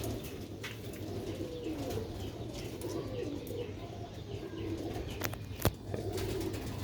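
Pigeons of a Sialkot rooftop breed coo in low, soft, repeated murmurs, steady throughout, with a light background hiss and a brief flutter near the end.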